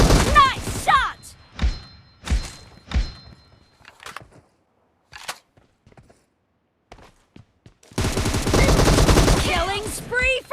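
Gunfire in a PUBG assault-rifle match comes as short sharp bursts and single shots, some loud and some distant, with game announcer voices over parts of it.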